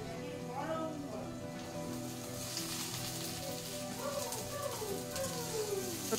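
Potatoes frying in oil with lightly fried onion and spices, a steady sizzle running throughout, with some voice-like tones layered over it.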